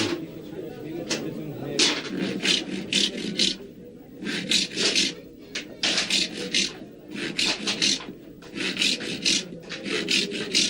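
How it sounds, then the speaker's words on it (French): Craftsman cutting the teeth of a horn comb held firmly in large pliers, a rapid series of rasping sawing strokes in short bursts with brief pauses, close and crisp, while a voice speaks over it. "L'artisan maintient le peigne avec une grosse pince pour pouvoir y taillader les dents."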